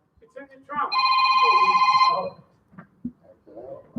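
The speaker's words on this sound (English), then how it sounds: "There is a phone ringing, ladies and gentlemen. It's in the trunk." A telephone rings inside a car trunk, one steady electronic ringing burst lasting about a second, followed by rustling and handling noises as someone searches nearby.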